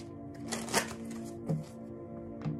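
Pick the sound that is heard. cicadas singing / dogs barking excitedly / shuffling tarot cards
shuffling tarot cards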